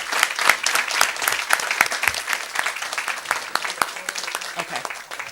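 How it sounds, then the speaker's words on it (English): Audience at a school board meeting gives a round of applause for mock trial competitors, a loud, dense burst of clapping lasting several seconds with crowd noise. "Let's give them a round of applause."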